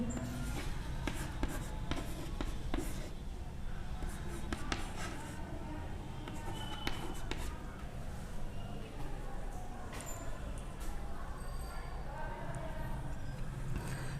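Pen scratching numbers onto paper during a primary-school maths lesson on ascending and descending order, a continuous close scribbling texture with small taps, while a teacher talks over it.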